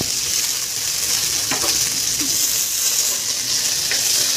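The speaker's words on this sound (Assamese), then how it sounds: "সয়াবিন সয়াবিন দি লৈছো। এই দুইখিনি ধুনীয়াকৈ ভাজি লওঁ।" Beans and soybean chunks frying in ghee in a pan, a steady close broadband sizzle with faint stirring clicks, no talk.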